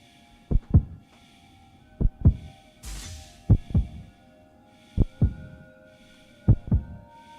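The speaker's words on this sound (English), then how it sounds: "is that just heartbeat the whole time in here?" Looping heartbeat ambience in the video game Borderlands 4: paired lub-dub thumps repeating roughly every one and a half seconds over a low hum, with a brief whooshing hiss midway, no talk.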